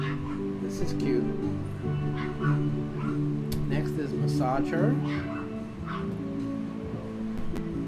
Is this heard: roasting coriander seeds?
no